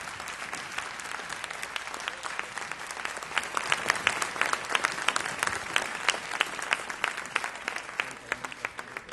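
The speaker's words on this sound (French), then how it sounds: "avec les acclamations, on se lève et on l'accueille chaleureusement avec la joie du Seigneur" A church congregation applauds warmly, a steady dense clapping that swells and holds for several seconds, with no voices standing out above it.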